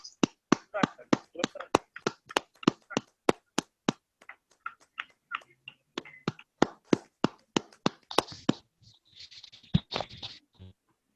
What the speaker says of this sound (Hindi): ताली बजाते रहे, हम लोग ताली बजाते रहे, जोरदार जोरदार जोरदार